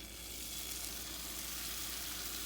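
Vegetable fried rice batter sizzles steadily in a lightly oiled pan, a continuous close hiss with no talking.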